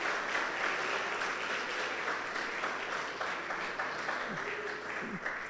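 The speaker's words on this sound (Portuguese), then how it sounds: "Aplauda ao Senhor bem forte." A church congregation at a service claps together in steady, moderately distant applause, with faint voices mixed underneath.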